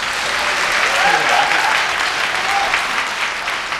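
Audience applause fills a hall at a televised international pageant final, a dense steady wash of many hands that stays loud and even throughout, with faint voices or tones drifting beneath.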